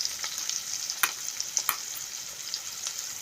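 Food frying in a pan, a continuous bright hiss and crackle with a few sharp pops and light clicks scattered through it, steady and close.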